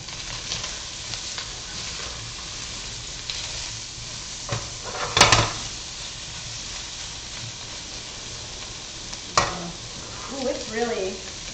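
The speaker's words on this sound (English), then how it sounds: "Yep, saute the sausage. So get it nice and brown." Tally Mac Shack sausage browning in a pan gives a continuous close sizzle, broken by a few louder clanks and stirring scrapes, with brief faint voice-like sounds near the end.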